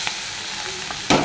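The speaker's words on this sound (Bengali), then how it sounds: "সকালে ব্রেকফাস্টের জন্য দেখো আনানো হচ্ছে বিনস আর আলু দিয়ে একটু ভাজা।" Beans and potatoes frying with thick green chillies for breakfast make a continuous sizzle in the pan, with a sharper burst of stirring and hissing near the end and no voices.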